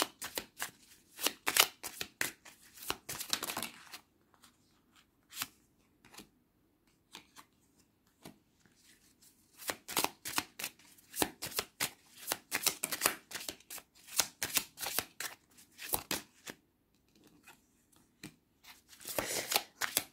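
Lenormand cards, an enchanted-dreams deck, shuffled by hand in close, crisp bursts of riffling and flicking, with short quiet pauses between rounds and no voices.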